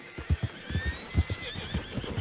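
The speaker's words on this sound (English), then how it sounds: "Hey, horses. Any of you a Mustang, I reckon?" Horses neigh and whinny in Red Dead Redemption II, mixed with a steady clip-clop of hooves. High whinnies stretch over a rhythmic run of hoofbeats that stays close and moderately loud.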